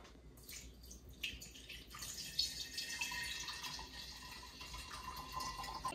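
Fresh cow's milk poured by hand into a container at home: a quiet, close, continuous liquid stream that builds and fills over several seconds, with no talking.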